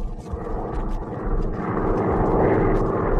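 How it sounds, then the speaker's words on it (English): In a radio drama, an aircraft engine drones as a plane circles above an airfield, a steady rumbling roar that swells slightly louder toward the end. "their plane was circling above an airfield"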